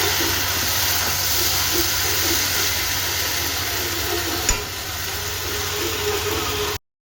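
Okra frying in oil in a pan gives a steady, close sizzling hiss that runs without a break and then cuts off abruptly.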